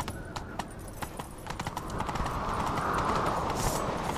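Video game horse hooves clip-clop in a quick rhythm, close and clear, then speed into a louder, steadier gallop with a rising rush of movement noise and no talk.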